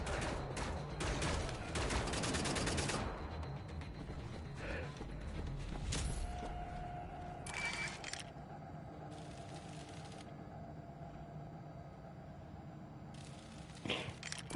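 Heavy bursts of automatic gunfire in Wolfenstein: The New Order, dense shooting for the first few seconds, then scattered shots and mechanical clanks with quieter gaps.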